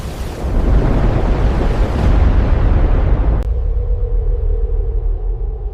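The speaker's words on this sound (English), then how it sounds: "A supersonic shockwave races outward, flattening everything in its path." A massive deep asteroid-impact explosion roars and rumbles continuously, then cuts to a lower, steadier rumbling drone of the shockwave after a sharp transition.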